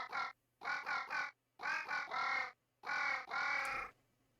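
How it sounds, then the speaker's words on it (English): A crow call from the video game Vintage Story repeats in a quick series of about eight harsh, nasal caws in short clusters, clear and isolated against silence. "That is a crow."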